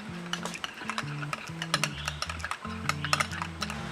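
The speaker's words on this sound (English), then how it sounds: "you want to mix it in thoroughly and thoroughly and thoroughly" A spoon scrapes and clinks around a bowl while ghost pepper sauce is mixed in, irregular sharp clicks and rubbing strokes over a few seconds, close and fairly quiet.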